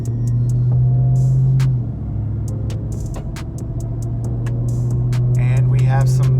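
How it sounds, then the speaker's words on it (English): Steady low drone of a Dodge Ram TRX pickup with its Hellcat supercharged engine while cruising, a continuous hum with faint whine and tire rumble, with scattered clicks above. "I can already hear the whine of the Hellcat supercharger."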